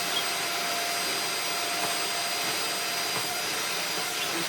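A Premium Floorcare corded vacuum cleaner with a short hose runs steadily and close by, a loud continuous whining drone with no talking.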